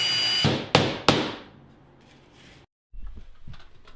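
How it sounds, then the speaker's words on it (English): A hammer drives a nail into a hickory mirror frame: three sharp, close strikes in quick succession, then quieter handling noises and a brief pause. "pounding your nail home into place"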